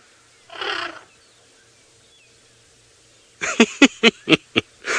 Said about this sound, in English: So they're all running around trumpeting and throwing branches and kicking and going absolutely crazy.